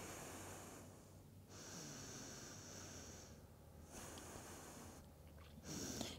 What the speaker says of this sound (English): Just take some deep breaths here.